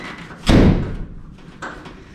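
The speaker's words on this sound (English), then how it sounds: "just shut the door" A 1985 Chevy car door swings shut with a single solid slam and dull thud close by, then a quieter clunk as it settles.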